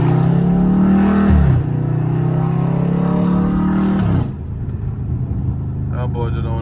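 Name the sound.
Dodge Scat Pack car engine revving in traffic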